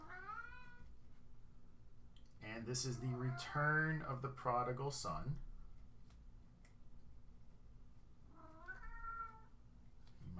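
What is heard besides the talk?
domestic cat meowing in the background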